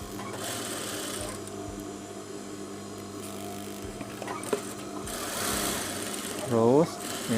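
A sewing machine runs steadily while stitching a Japanese zipper onto lining fabric, a close mechanical whirr with rhythmic needle chatter that briefly speeds up, while a person speaks over it.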